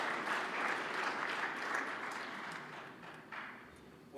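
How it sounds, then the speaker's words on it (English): An audience claps at a GNCC event stage ceremony, a dense sustained round of applause that slowly fades over a few seconds. "Give them a big round of applause."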